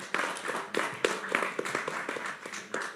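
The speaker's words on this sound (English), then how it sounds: "Give a round of applause to Joshua." Scattered, fairly faint clapping from a small audience at a startup awards pitch event, the individual claps sparse and uneven rather than a full ovation.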